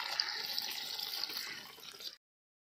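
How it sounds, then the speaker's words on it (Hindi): Water pours from a vessel into a pan of frying singhi fish, a steady bright splashing trickle for about two seconds before stopping abruptly. "मछली में पानी डाल देते हैं हम।"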